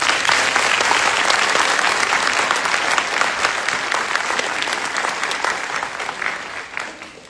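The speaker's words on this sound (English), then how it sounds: "Please join me in a round of applause for their hard work and dedication." An audience applauds graduating drill sergeants at a US Army Drill Sergeant Academy ceremony, loud dense clapping from a large crowd that holds steady, then gradually thins and fades toward the end.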